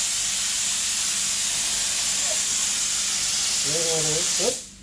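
Continuous loud hiss of a spray gun spraying paint on a hot rod body, steady for several seconds and then cutting off abruptly, with a voice briefly heard underneath.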